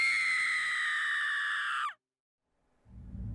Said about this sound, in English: was stopped by the sound of my wife's scream